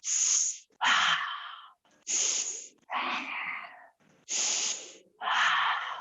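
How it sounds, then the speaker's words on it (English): Deep breaths in and out during a gentle stretching exercise session, six loud, close airy breaths alternating between inhales and exhales, each about a second long, separated by brief pauses. "breathe in, breathe out"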